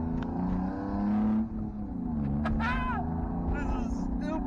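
Loud BMW E36 325i sedan driving, its engine droning and rising under acceleration with a raspy exhaust note, recorded up close from the car during a drive.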